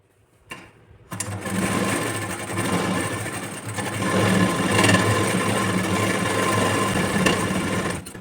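A sewing machine stitches the joint of a fabric strip for a princess-cut blouse, a steady rapid mechanical whir that starts after a brief quiet moment and runs continuously and close up.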